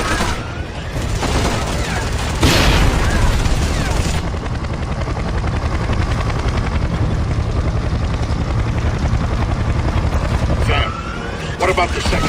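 Helicopter gunfire in the Splinter Cell: Conviction game, heard as sustained loud bursts of automatic fire over a constant rotor and engine roar, with heavy impacts and a few booms.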